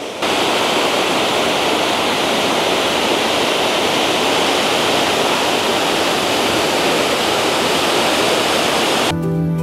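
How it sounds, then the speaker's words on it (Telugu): Smokey Hollow Falls in Hamilton, Ontario roars steadily, a dense, loud, unbroken rush of falling water heard up close, with no voices over it. "మంచి వాటర్ ఫాల్స్."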